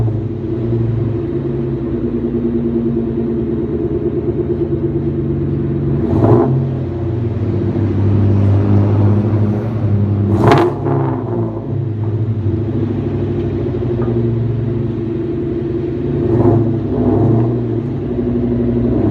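A 2001 Ford Mustang GT V8 with newly welded-in mufflers idles with a deep, steady loud rumble, blipping the throttle into a few short revs.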